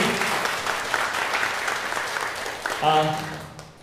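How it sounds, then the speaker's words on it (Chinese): A church congregation applauds during a Sunday joint worship service, a broad wash of clapping that runs for several seconds. A voice joins near the end, and a few sustained tones rise over the crowd before it fades. "我们把掌声归荣耀给上帝"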